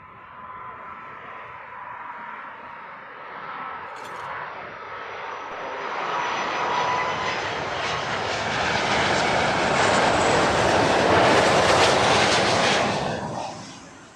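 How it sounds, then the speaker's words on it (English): Air China airliner arriving to land at Heathrow, a jet engine whine and rushing roar that swells steadily louder as it passes close overhead, then begins to fade at the end. "Nice noisy arrival, that one. Air China."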